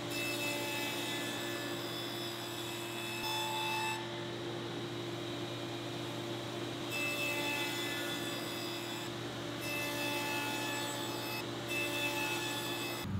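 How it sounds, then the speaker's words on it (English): A table saw fitted with a stacked dado set cutting through wood: a steady loud whine with tonal hum, the pitch dipping and shifting in several stretches as the blade meets the stock, no voices. "I'm going to remove the bulk of this material at the table saw using a stacked dado set"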